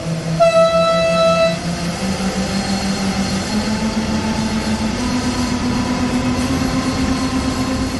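A BR182 electric locomotive in Train Sim World 3 rolls along, opening with a loud horn-like tone that fades into a steady rumble and a rising electric motor whine as it picks up speed.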